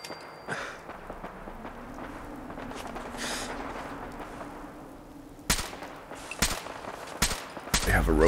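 Gunfire in Fallout 4, several sharp loud shots and short bursts in the second half, following a quieter stretch with a low droning tone.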